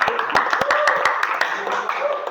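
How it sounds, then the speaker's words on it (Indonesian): A classroom group claps for a student group presentation, giving a short burst of scattered, uneven claps from a small audience while a voice speaks over it. "Kita kasih applause."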